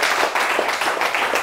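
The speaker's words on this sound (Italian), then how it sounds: "facciamo anche un bel applauso" Audience applause at a savings and financial education event, steady dense clapping from a crowd throughout, fairly loud and close with no voices over it.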